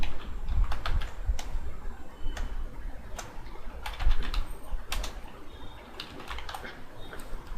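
Rapid keystrokes on a computer keyboard as a profile name is typed during firewall configuration, with irregular bursts of close, crisp clicks and short pauses between words.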